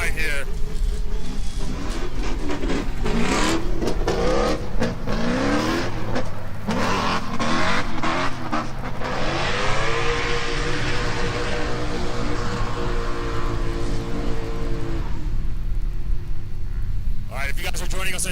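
A drift car finishing its final qualifying lap at a drift battle competition, engine revving hard and continuously with tire squeal, loud and sustained under crowd and announcer noise.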